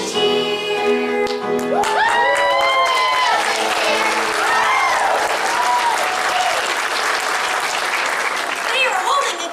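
A theatre audience at a Missoula stage production of The Snow Queen claps and cheers loudly and continuously, with sung or melodic voices carrying over the start before the dense applause fills the room.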